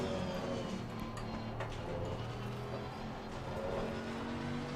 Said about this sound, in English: when you like full throttle like that next to a wall, like the pit wall, you can actually hear the reverberation of the engine back again